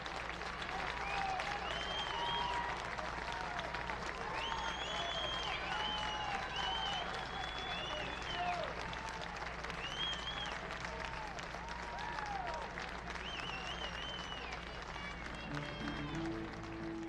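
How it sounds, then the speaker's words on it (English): Crowd applauding a departing pitcher at a college baseball tournament championship game, with sustained, steady clapping and scattered cheers and whistles throughout, fairly distant, under a continuous broadcast hum with faint voices. "That'll be it now for Nico Saldias, who gets a great hand from the crowd here."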